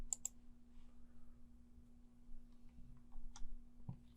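Sparse, faint mouse clicks while proxy settings are saved on a computer: a quick double click at the start, then a few isolated soft ticks over a low electrical hum.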